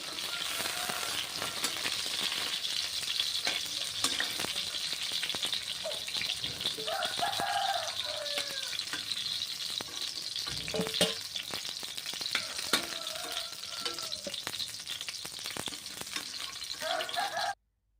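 Continuous hissing sizzle of food frying in a pan for stuffed eggplant curry, with occasional scrapes and rattles from stirring, close-up and steady, no voices.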